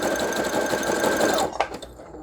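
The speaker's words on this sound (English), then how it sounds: "I'm just going to sew these around, and I'm just going to use a zigzag stitch because that's going to help me grab the edge" Sewing machine running fast while zigzag-stitching around the edge of a junk journal card, a loud steady whirring hum for about a second and a half that stops, followed by a few faint clicks.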